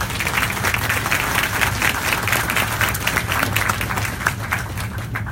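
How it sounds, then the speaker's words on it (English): Sustained applause from an audience at a groundbreaking ceremony, honoring the construction teams; many hands clap in a dense, even roar that holds steady for the whole stretch without a break. "if you would give our construction teams a round of applause for all their hard work"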